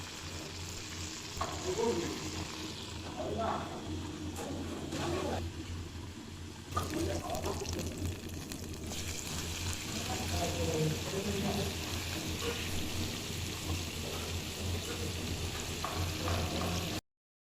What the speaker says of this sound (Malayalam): ഞാൻ ഇവിടെ രണ്ട് മൂന്ന് വട്ടമായിട്ട് ഫ്രൈ ചെയ്തെടുക്കുന്നുണ്ട്